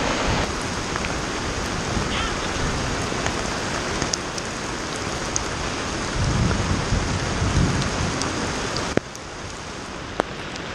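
Steady rain falls at a lake, a continuous hiss with scattered drops and patter, loud and close throughout, with a few sharp clicks and a brief swell of heavier downpour midway.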